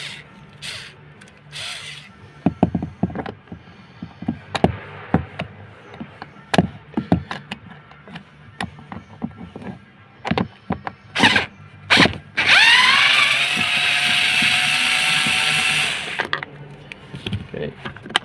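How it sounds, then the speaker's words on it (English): A Phillips screw is undone from the rear door trim of a Kia Sportage whose rear door won't open, giving close ratcheting clicks and sharp knocks, followed by a loud, sustained whirring burst near the end. "And there's just a Phillips screw in there to undo."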